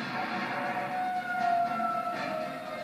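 Tornado warning sirens wail across Tuscaloosa, Alabama, on an April afternoon, a sustained rising and falling tone heard at a distance over a wide metropolitan area, steady and prominent with no speech.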